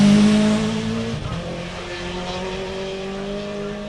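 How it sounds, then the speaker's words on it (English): A rally car in a forest rally sprint accelerates hard up a dusty hill toward a hairpin, its engine loud and close with a sustained, rising note and some tyre noise. "Garrett Thomas, car number 9, the dust flies as he heads up the hill towards the Haller hairpin."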